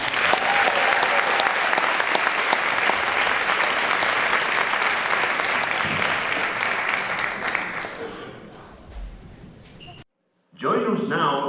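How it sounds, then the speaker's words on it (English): Loud, sustained applause from a school-event audience honours a Nashville School of the Arts student. It holds steady for about eight seconds, then thins and fades, and a voice starts speaking just after a brief silence. "Let's give the prior student David Klaskens and the Nashville School of the Arts one more round of applause."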